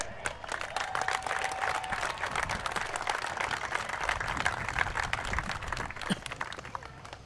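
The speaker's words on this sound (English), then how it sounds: "So how about let's give a round of applause to Matt Boatnick." Steady applause and clapping from a crowd at a speedway hall of fame ceremony, continuous and fairly loud for several seconds, with some background noise.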